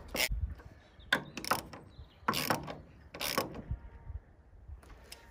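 A socket ratchet tightens screws on a plastic hose reel bracket, making several bursts of quick ratcheting clicks with short pauses between them, close and clear.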